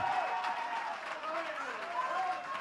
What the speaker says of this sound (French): Une main d'acclamation pour le pasteur